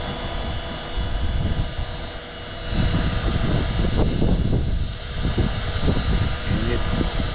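A cold O.S. 21 TM nitro engine in a Traxxas RC car is spun by its starter on a windy day, a loud, rough mechanical whirring that surges in bursts, with wind noise around it.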